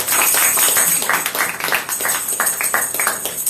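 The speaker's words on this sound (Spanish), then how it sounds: "Dale un aplauso al Señor, una palma de alabanza" A church congregation claps hands in praise, loud and dense rhythmic clapping up close filling the room without pause.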